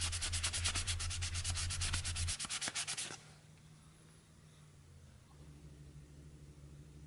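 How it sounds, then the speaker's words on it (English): Rapid, rhythmic rubbing strokes of lightly sanding plastic figure parts for about three seconds, loud and close, then a quieter stretch of low background hum. "just lightly sanded all of the exposed surfaces"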